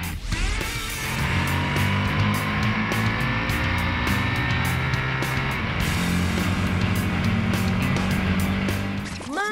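Ducati 959 Panigale motorcycle at the Interlagos circuit, its engine roaring steadily and loudly throughout with a rising, sustained drone and quick shifts in pitch, close by and continuous.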